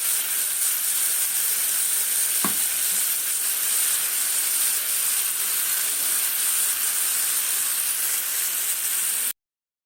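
Chicken shawarma cooks in a covered pan, giving a steady, even sizzle and frying hiss with one sharp clink partway through, then cutting off abruptly.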